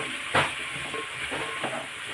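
Okra curry cooking in a pan, giving a continuous close hissing sizzle with a sharper burst near the start and a few softer stirring swells afterward, with no voices.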